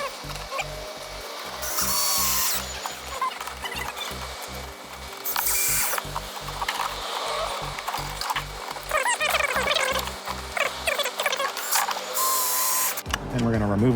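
A power drill drives screws straight through a vehicle side step mat in repeated short bursts, the motor whirring and the ratcheting clutch stuttering in rapid pulses, with pauses and speech in between.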